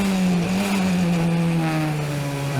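A race car engine in a street racing video game set in Montreal drones steadily at high revs with a slight dip in pitch, continuous and close, without speech.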